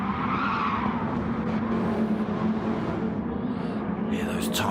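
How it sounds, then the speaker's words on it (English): Race car tyres squealing through turn 1 at Suzuka as a Subaru leads a Mitsubishi, a sustained high screech over steady engine roar, loud and continuous, with a commentator talking over it. "Hear those tyres squealing"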